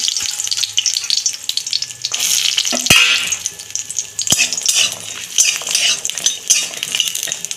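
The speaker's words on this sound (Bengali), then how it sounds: "ওই তেলে বড়িগুলো দিয়ে দিচ্ছি।" Lentil dumplings (bori) frying in hot oil in a pan, a continuous sizzle with occasional scrapes and clinks of a utensil stirring against the metal.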